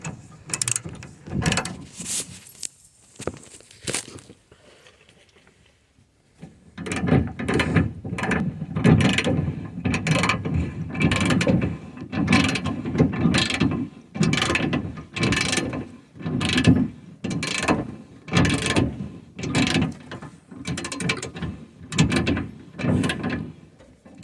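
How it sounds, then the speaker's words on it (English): A ratchet wrench tightens bolts while a Curt-style 2-inch receiver hitch is fitted to a vehicle. Loud, close ratcheting clicks come in quick bursts of strokes, with a short pause early on before steady, repeated cranking. "You're going to want to tighten this bolt first to snug it up."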